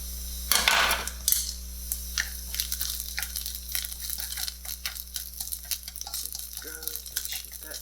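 Finely chopped garlic hits hot oil with a sharp initial crackle, then settles into a steady sizzle broken by scraping and stirring clatter from a pan, with a voice briefly talking near the end.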